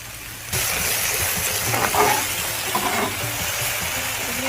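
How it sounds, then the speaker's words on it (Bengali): Water hyacinth (kochuripana) frying in hot oil gives a steady, close sizzling hiss that starts abruptly and holds loud and even throughout, with no talking. "আমার কচুরিপানা ভাজা শেষ"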